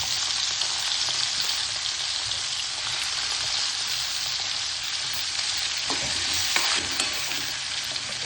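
Stuffed bitter gourds (karela) frying in oil with asafoetida in a pan, a steady loud sizzle with a few stirring clinks near the end.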